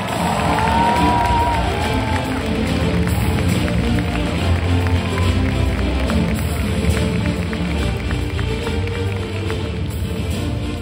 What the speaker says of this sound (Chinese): 马上借助你们的掌声，邀请 Team Supreme Pegasus 6 Lester Lin。